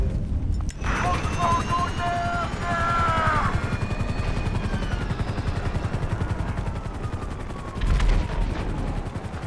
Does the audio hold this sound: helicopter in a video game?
yes